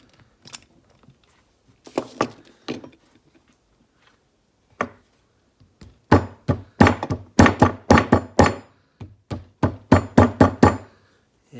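Hammer tapping a clamp tool to crimp a CV boot band, sharp metallic knocks: a few scattered taps, then a rapid irregular run of strikes, close and clear.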